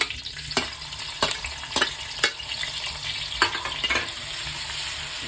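Vegetables fry in ghee and coconut oil butter, giving a dense, close sizzle punctuated by repeated sharp stirring knocks and scrapes of a utensil against the pan.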